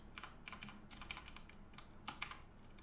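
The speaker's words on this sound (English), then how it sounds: "tap my keys a little more, because that's fun." Keys on a computer keyboard are tapped in quick, uneven bursts, faint and close against a low steady hum, with no talking.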